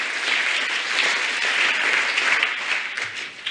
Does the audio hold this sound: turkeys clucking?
no